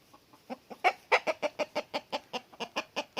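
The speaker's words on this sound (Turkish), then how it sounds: "bu tam bir horoz olmuş" A rooster clucks in a quick, steady run of sharp, close calls, about a dozen in a row, growing louder after a few softer opening notes.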